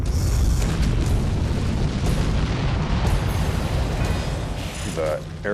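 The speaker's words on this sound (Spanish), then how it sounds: "se producen explosiones en el aire" Asteroid fragments exploding in the air as they tear through the atmosphere: a dense, continuous rumbling roar full of booms and crackling bursts, with sharp metallic whistles near the end.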